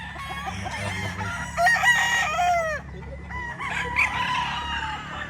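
White Kelso gamefowl roosters crow repeatedly with overlapping calls and clucks, several birds nearby, steady farmyard hum underneath and no talking.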